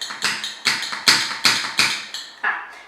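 A hand-operated wine vacuum pump works on a bottle stopper, giving about ten sharp, evenly spaced pumping strokes, each a crisp close tap with a short hiss-like tail, with no talking.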